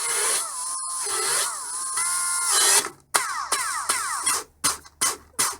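A Ryobi R18PD5 brushless electric drill/driver whirs close by, its motor pitch rising and falling through several runs, then breaking into a series of short, sharp bursts with brief silences between.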